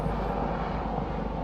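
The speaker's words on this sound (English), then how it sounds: "Helicopter flying" A helicopter passes overhead, a steady loud rotor and engine drone held throughout with no talking.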